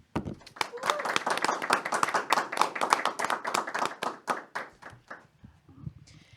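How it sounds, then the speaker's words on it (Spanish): A studio audience gives a round of applause to a departing guest, Rolando Bonilla, on a Catholic talk program, a steady stretch of clapping with distinct hand claps, nearby and fairly loud, tapering off near the end. "Agradecemos y despedimos a Rolando Bonilla con un fuerte aplauso"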